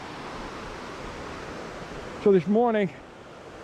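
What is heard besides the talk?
rushing water of the canal system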